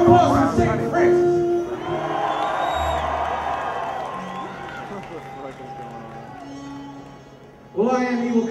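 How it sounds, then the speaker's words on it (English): A crowd at a live hip-hop show cheers and whoops for several seconds between stretches of a loud amplified voice that opens and closes the moment. "How about a round of applause for St. Francis?"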